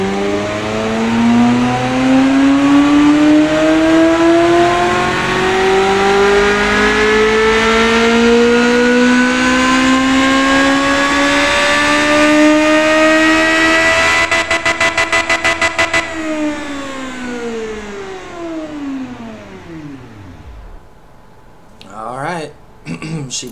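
A video game car engine revs up steadily, rising in pitch for several seconds, then drops away sharply, followed by a few brief blips near the end.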